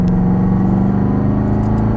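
A Corvette Stingray engine drones steadily on a racetrack, a loud, close, continuous rumble with a faint rising pitch as the throttle opens, with no other sounds.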